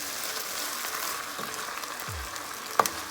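Onions caramelizing in a pot for French onion soup give off a faint, steady frying hiss, with a few light stirring clicks and a small clatter near the end.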